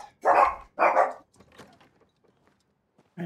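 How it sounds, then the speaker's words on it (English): Pet dogs bark indoors in a home: two loud, close barks in quick succession, followed by a few faint, scattered yips and snuffles and then near silence. "Sorry for my dogs, guys."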